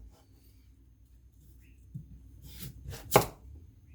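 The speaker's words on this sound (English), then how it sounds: "I think I might do cubes." A kitchen knife chops vegetables into cubes on a chopping board during vegetable prep, a few sharp knocks building to one loud close cut near the end, with no talking.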